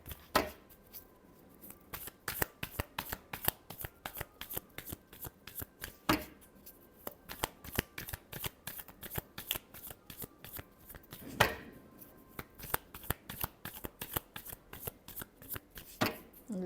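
A deck of tarot cards is shuffled close by during a reading, with repeated crisp riffles and slaps in steady bursts and a few sharper snaps spaced through the sequence.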